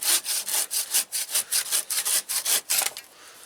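A saw cutting through a chunky wooden log for a bushcraft shelter, quick rhythmic back-and-forth rasping strokes, close and fairly loud, about a dozen strokes before stopping.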